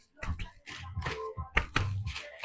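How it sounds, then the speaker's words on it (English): Cooked paratha roti being clapped and crushed between hands to loosen its flaky layers, a series of soft, dull pats and rustles in an irregular rhythm, close up and with no talking. "Oh, it's messy, but I'm clapping it anyway."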